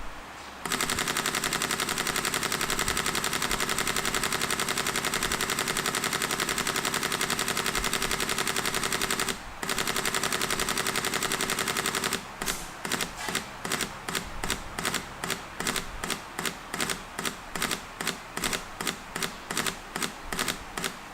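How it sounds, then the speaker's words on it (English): Rapid mechanical shutter clatter from a Sony camera firing at its highest burst speed, a dense continuous stream of clicks that breaks briefly, then slows into distinct, evenly spaced bursts as the buffer fills. "both camera is set as the highest burst speed, and we'll just shoot until the buffer is depleted"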